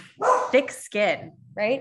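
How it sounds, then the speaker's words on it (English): A pet dog yaps in a few short, sharp barks close by, interleaved with a person speaking during an indoor interview. "That's my dog."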